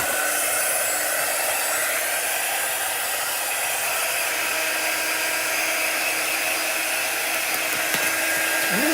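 A hair dryer blows steadily for the full stretch, loud and close, drying chalk drawn on a fabric bandana, with a constant broadband whoosh and no voices over it.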